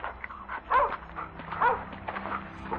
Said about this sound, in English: Hope you're not back to steal my dog.